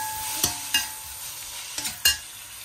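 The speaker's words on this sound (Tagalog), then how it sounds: "Lagay ko na rin yung bawang. Halo-halo natin hanggang sa maluto na siya." Garlic frying in a pan while being stirred with a utensil, four quick scraping strokes breaking through a soft, steady sizzle, close and fairly quiet.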